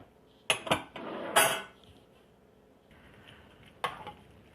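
Hash brown casserole ingredients mixed in a bowl with a utensil, a few sharp clinks and scraping bursts separated by quiet pauses.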